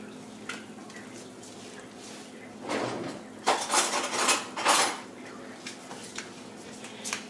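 Metal spoon lifted and clinking against dishes in a home kitchen while making caramelized onion dip, a short cluster of bright clatters in the middle of a quiet stretch.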